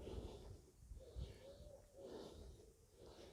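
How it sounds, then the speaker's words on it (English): A wood pigeon coos outdoors in slow, soft, repeated calls, faint and distant, against a low background hum. "We got a wood pigeon out."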